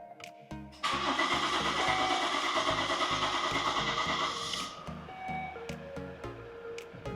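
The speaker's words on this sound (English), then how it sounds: "It did crank for a few seconds, but it cranked and then it started fine." A Volvo V70 D5 diesel engine cranks briefly after a fuel filter change, then catches and settles into a steady, close, rumbling idle with a regular rhythmic knock.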